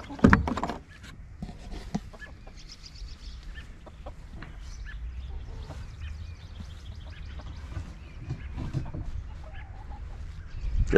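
A hen in a backyard coop's nesting box clucks and murmurs while laying an egg, soft intermittent calls close by over quiet background rustling, with a few louder bursts.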